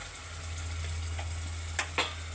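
A spoonful of ginger garlic paste stirred into softened tomato pieces in a cooking pan, a soft sizzle over a low steady hum with two sharp spatula scrapes near the end.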